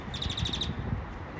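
Birds chirp in a quick run of repeated high tweets over a steady background hum, then fade out, heard near an indoor spa entrance.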